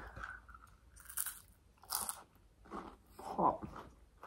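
Crunchy Kinder chocolate bitten and chewed close up, with several crisp crunching bites in irregular bursts and quieter chewing between them, no talking.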